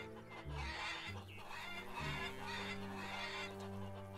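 Chickens cluck and squawk in a barnyard in the video game Lumberjack Dynasty, several birds overlapping in a busy, continuous chorus with no voices.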